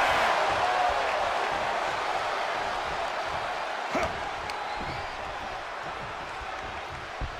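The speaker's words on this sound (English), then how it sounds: "The sound of this crowd is deafening" Simulated wrestling arena crowd in the WWE 2K24 video game, a broad roaring cheer that slowly fades, with a couple of brief thuds partway through.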